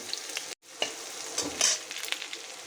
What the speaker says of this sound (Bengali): রসুনগুলোকে ভালোভাবে ভাজা করে নেব